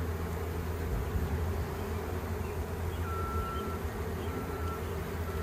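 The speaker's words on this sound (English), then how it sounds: "So let's move these bees back over." A dense, steady buzzing of many honeybees fills the air continuously during a hive split, with a faint higher whine drifting through now and then.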